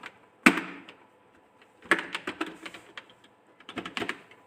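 Computer keyboard typing in short bursts: one sharp key hit, then a quick run of clicks, a pause, and another cluster of keystrokes, close and clear.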